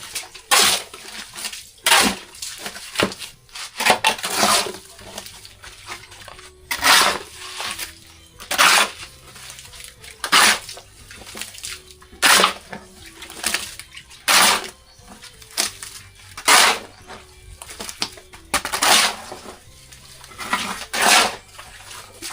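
Repeated bursts of water splashing and sloshing, roughly a dozen sharp surges at uneven intervals, close and fairly loud, with quiet gaps between and a faint low tone underneath, no clear talk.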